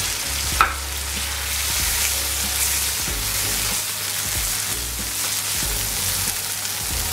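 Balsamic and apple cider vinegar hitting a hot adobo pan, producing a loud, continuous close sizzle and crackle with a brief sharp splash near the start, no voices.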